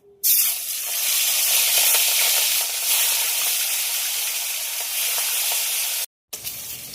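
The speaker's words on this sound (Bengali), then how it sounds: "তেল গরম হয়ে গেছে এবার মাছগুলো ভাজার জন্য ছেড়ে দেবো" Fish drops into hot mustard oil, and an intense, close, steady sizzle follows. The loud frying hiss goes on unbroken for several seconds, then cuts off briefly near the end.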